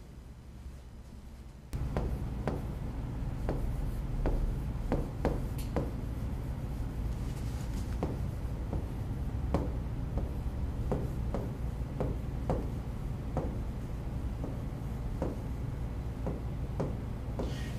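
Marker or chalk writing notes on a board, a run of short scratchy strokes and taps in an irregular rhythm, close and fairly faint over a low room hum, with no talking.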